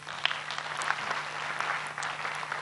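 Applause from a conference audience at a political party gathering, a steady patter of many hands clapping at moderate distance, with a low steady hum underneath.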